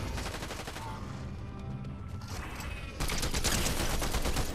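Gunfire in the Fortnite video game, a steady volley of distant shots that turns louder and denser near the end, with no voices.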